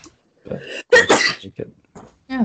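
A single sharp sneeze bursts out amid casual conversation at a party, with voices talking before and after it.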